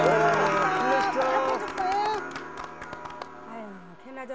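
A studio audience claps and cheers in a short burst of applause under overlapping talk and voices, then fades as speech continues.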